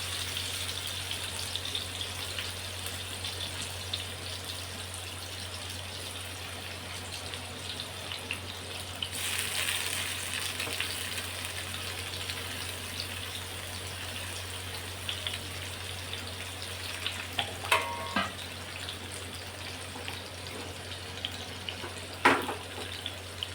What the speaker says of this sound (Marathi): मध्यम आचेवरती हे आपल्याला परतून घ्यायचं आहे व्यवस्थित दोन्ही बाजूने.